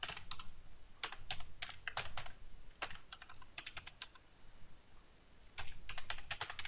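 Close, rapid typing on a computer keyboard during web app development, with bursts of crisp key clicks separated by short pauses.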